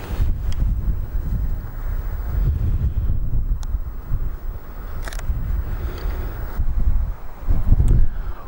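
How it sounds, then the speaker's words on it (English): Strong mountain wind buffets the microphone in Eryri's Elidir Fach and Dinorwig area, a continuous loud low roar with surging gusts and brief rattling bursts throughout, no voices. "The wind is savage."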